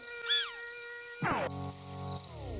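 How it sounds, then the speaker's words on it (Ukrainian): Mosquito buzzing in an insect-themed children's lesson: a thin, steady high whine under a shrill cricket-like trill, joined midway by a denser, louder droning buzz that continues to the end. "Комарі настирливі та кусучі комахи, які дошкуляють людям протягом тисячоліть."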